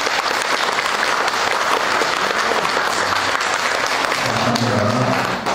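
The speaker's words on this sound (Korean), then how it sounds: "두 분 박수로 환영하겠습니다" A church congregation applauds to welcome two guests back from a health center and a training retreat, steady loud clapping filling the room throughout.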